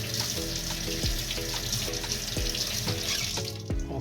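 Cold tap water runs steadily over a freshly moulded bruxism mouth guard, a continuous close hiss and splash with faint clinks and no talking.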